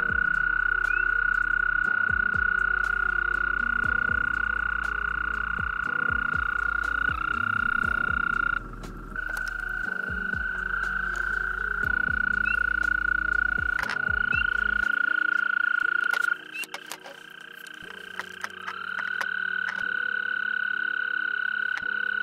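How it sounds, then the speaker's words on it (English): American toads call from a vernal pool in breeding season, several long, high, sustained musical trills overlapping and taking turns, loud and close, over a low background rumble. "all the toad battles and all the calling that these animals do"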